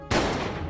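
A single sharp gunshot fires after a split second of quiet, a loud sudden blast that decays with a short noisy tail.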